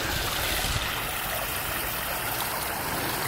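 Water pours steadily over a man-made waterfall in Lake Placid, a constant, close, even rush and splash with no breaks.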